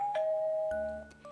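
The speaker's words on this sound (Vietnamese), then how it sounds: "đó chính là tiếng chuông cửa đấy" A doorbell rings in a home with a clear two-tone ding-dong, bright and close, sounding alone.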